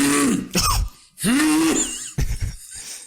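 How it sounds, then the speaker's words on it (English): A man clears his throat in a few short, harsh, rasping bursts with brief gaps between them, close and loud, recorded on a podcast set. "I gotta clear my throat after."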